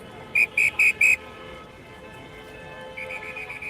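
Four short, loud whistle blasts in quick succession at a street crossing during the Sant Jordi crowds in Barcelona, over steady street noise, followed by a fainter warbling whistle tone near the end.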